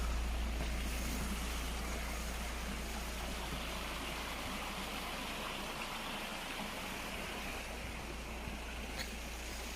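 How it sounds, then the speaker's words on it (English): A small stream flows beneath a little bridge in a town in Wales, a steady broadband wash of running water that holds evenly throughout with a low rumble underneath and no voices. "Little streams going through towns and whatnot."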